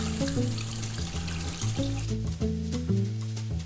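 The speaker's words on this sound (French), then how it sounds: "Prune, est-ce que tu veux bien mettre les raisins secs à tremper dans un bol d'eau froide?" Cold water runs steadily into a bowl for soaking raisins in a kitchen, a continuous moderate splash and trickle with music playing underneath and no talking.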